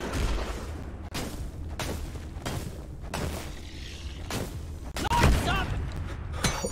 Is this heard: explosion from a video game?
yes